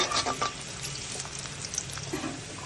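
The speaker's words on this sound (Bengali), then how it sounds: "আমি এখানে রসুনগুলো ভালো করে ব্রাউন কালার করে ভেজে নেব" Garlic browning in hot oil gives a quiet, continuous sizzle with a few light stirring clicks, up close and with no talking.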